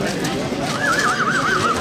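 At a horse fair in Toucy, a horse lets out a loud, wavering whinny near the end, heard over background chatter and crowd noise.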